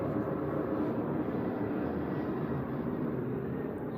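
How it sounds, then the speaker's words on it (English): An airplane flies overhead with a steady, broad roaring rumble that stays constant and fairly loud throughout, unbroken and with no voices. "the plane going."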